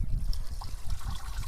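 Water poured out at the Jalangi river, a steady low trickling and splashing gurgle that runs continuously through the short stretch.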